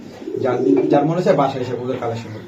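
A racer pigeon gives a low, throaty rolling coo close by, with voices audible around it.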